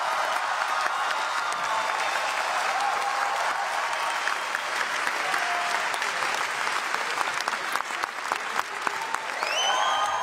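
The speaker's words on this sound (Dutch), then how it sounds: "Ja, opluchting en applaus horen we." Steady applause fills a large conference hall as the Paris climate agreement is adopted in December 2015, a continuous dense clapping from many delegates with a few sharper claps standing out near the end.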